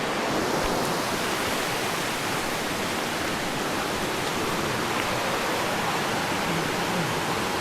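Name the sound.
flowing river in the forest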